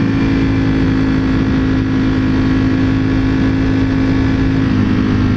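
A 2021 Ducati Panigale V4S motorcycle engine under way, a loud, constant droning roar with a steady tonal whine and heavy wind rush, no voices.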